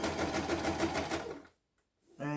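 Sewing machine stitching a blanket, running steadily for about a second and a half before stopping, then a short silence and a brief restart of the motor.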